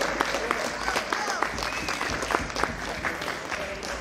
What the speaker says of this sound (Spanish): Un fuerte aplauso y las mujeres arrasando con todo.